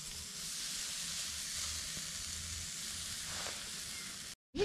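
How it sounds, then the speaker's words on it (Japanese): Beef tongue sizzles steadily on a charcoal shichirin grill, a close, constant frying hiss with faint crackles, cut off by a brief silence near the end. "焼肉屋さんみたく牛タンを焼きます"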